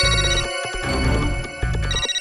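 A mobile phone ringtone plays loud and close in a Taarak Mehta Ka Ooltah Chashmah scene, a bright repeating melodic tone with steady sustained harmonics and short rhythmic pauses, with no talk over it.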